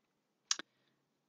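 An altered typewriter with reground metal typefaces strikes characters: two quick sharp clacks close together, then a pause and another crisp strike, in a quiet room.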